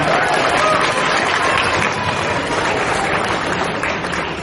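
A convention audience at an anime event claps in a thick, continuous burst of applause that stays loud and even before easing slightly at the end.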